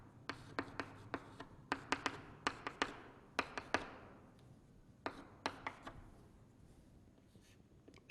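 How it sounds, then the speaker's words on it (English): Chalk or marker tapping and stroking on a board during a chemistry lecture on Lucas reagent, a quick run of sharp close taps and short strokes in irregular bursts, then quiet near the end. "I can write it here"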